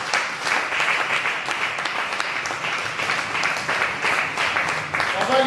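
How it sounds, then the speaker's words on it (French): A church congregation claps and applauds in a steady, loud, sustained wave, with a few voices mixed into the crowd noise. "Est-ce que tu peux acclamer?"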